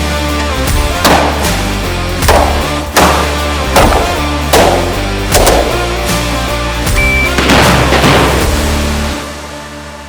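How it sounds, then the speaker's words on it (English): Gunshots at a ballistic shell target, pistols and rifles, come as about seven sharp, loud bursts at a fairly regular pace, each one ringing out briefly before the next, with no talking. "On my signal, we had to shoot a ballistic shell target."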